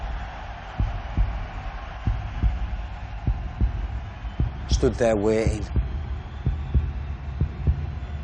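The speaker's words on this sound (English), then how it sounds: "Among all the noise, I could actually hear my heart beating." Heartbeat sound effect pulsing steadily and loudly in a low thud throughout, heard under narration about a tense moment waiting for a boxing result, with a voice speaking briefly over it.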